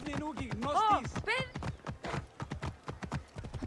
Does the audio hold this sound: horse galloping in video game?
yes